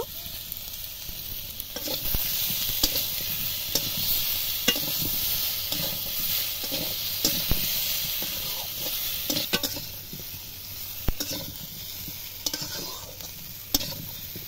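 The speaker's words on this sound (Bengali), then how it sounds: "এবার কেটে রাখা আলুগুলো ভেজে নেব।" Cut potatoes fry in hot oil in a wok, with a steady sizzle throughout and occasional clinks and scrapes of stirring. No one speaks.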